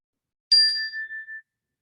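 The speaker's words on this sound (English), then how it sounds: "in a couple of seconds, you will hear the bell" A single meditation bell is struck once, ringing out a clear bright tone that decays smoothly over about a second, alone in an otherwise silent room.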